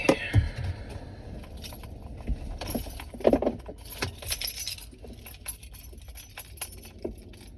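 Keys jangle and clink in short bursts, fairly close and moderately loud, scattered through several seconds amid light handling noise and a faint background of outdoor traffic.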